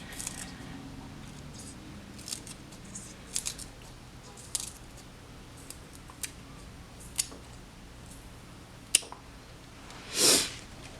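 Scissors snip green onions that were regrown in water, giving a series of small, sharp, close clicks spaced a second or so apart. A brief soft rustle or squish near the end stands out above a quiet background.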